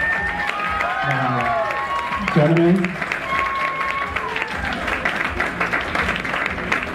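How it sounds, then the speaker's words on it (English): A pageant crowd applauds the contestants, with a broad wash of clapping and some cheering running beneath a voice and music on a sound system. "let's give a round of applause to all the contestants that competed"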